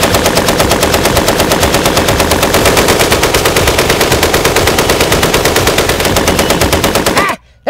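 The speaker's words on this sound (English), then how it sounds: "All you have to protect yourself is a belt-fed M60 machine gun" A belt-fed M60 machine gun fires one long, loud, sustained burst of rapid evenly spaced shots that stops abruptly near the end.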